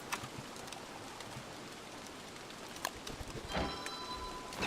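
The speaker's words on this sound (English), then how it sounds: "I kind of wish it wasn't raining this early." Rain falls in Don't Starve Together as a steady, soft, even patter with a few sharper ticks and game sound effects on top.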